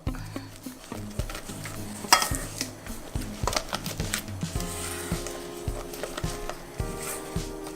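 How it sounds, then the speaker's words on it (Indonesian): Batter for steamed coconut putu ayu cake being stirred in a bowl, a string of sharp utensil knocks and scrapes against the sides in an uneven rhythm, close and clear. "Nah, kita aduk."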